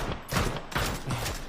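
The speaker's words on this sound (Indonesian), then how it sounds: "tim United Kingdom melakukan tembakan ke bagian bawah" A burst of gunfire in the PUBG battle royale game, with rapid overlapping shots in a dense volley that echo briefly, loud and close.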